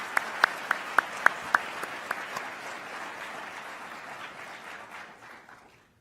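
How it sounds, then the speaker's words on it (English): Audience applause at a medical school white coat ceremony: a few sharp, loud claps up front swell into a broad, steady round of clapping that gradually fades out to silence. "Let's recognize their support with a round of applause."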